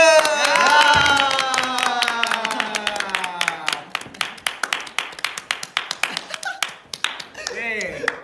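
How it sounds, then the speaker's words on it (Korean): A few people clap in a steady run of sharp, close hand claps during a K-pop group's live stream, following a sweeping burst of tonal sound, with voices talking over and around it. "박수!"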